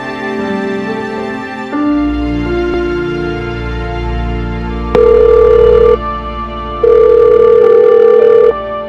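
A telephone rings on and off unanswered, a steady electronic ringing tone in bursts over a low droning musical background, with no voices.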